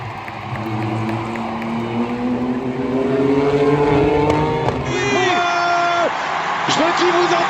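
Race cars with V6 engines race on a track at GP Explorer, their engines droning and rising in pitch as they pass, with an excited commentator's voice talking over the noise.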